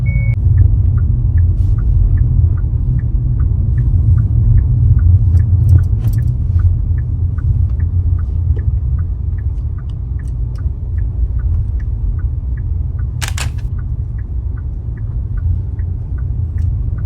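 A car rolls forward during a driving lesson with a steady low engine rumble and road noise throughout, while a faint regular ticking, like an indicator, runs underneath. No one talks.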